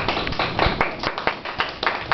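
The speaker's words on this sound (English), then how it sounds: "You can clap with me" A group of people clapping together in a classroom or training session, a dense, steady patter of many hands with a few louder accented claps, fairly close and continuous throughout.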